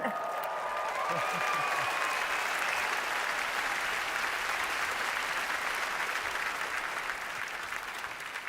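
A large Google I/O keynote audience applauds a live smart-eyewear demo, with loud continuous clapping and a few whoops that carry on evenly and ease slightly at the end.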